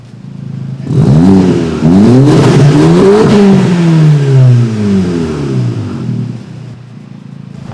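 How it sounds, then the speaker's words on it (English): A Volkswagen Golf GTI Mk7's exhaust revs hard several times, the engine pitch climbing and falling in loud, rumbling sweeps before settling back to idle. "I haven't heard this exhaust yet, so I think it sounds good"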